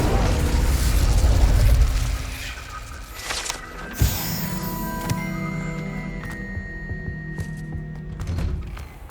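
A fire spell cast in Hogwarts Legacy gives a booming burst of flame with a sharp thud near the start, then settles into a lingering crackling, ringing tail over game ambience.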